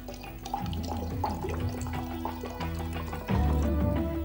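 Water pours into a clay surahi jug, a bubbling, gurgling fill with rising tonal glugs that grows louder near the end, with no talk.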